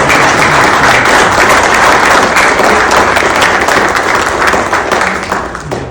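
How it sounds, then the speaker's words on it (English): An audience at a Marines' Memorial Association lecture breaks into loud, dense applause, a continuous roar of clapping that holds strong for nearly six seconds before easing slightly at the end. "Round of applause, because this doesn't happen without their help."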